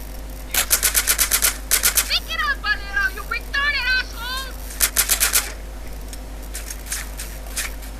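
Rapid bursts of automatic gunfire in GTA San Andreas, during a small-town bank mission, crackle in quick volleys, with a voice speaking between and over the shots against a steady low hum.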